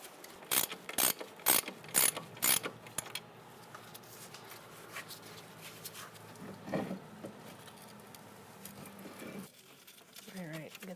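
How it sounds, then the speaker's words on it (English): A ratchet and socket loosen caliper bracket bolts on a 2014-2018 Subaru Forester with a quick run of sharp clicking bursts up close, followed by quieter handling noises while a voice talks. "get a socket for the bottom one. You're going to take your bolts out."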